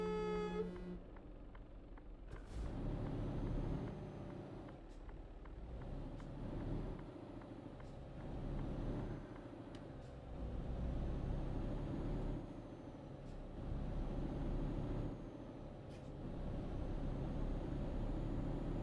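A truck in Euro Truck Simulator 2 drives along with a steady engine rumble that rises and falls in long swells, and a hiss of air brakes near the start.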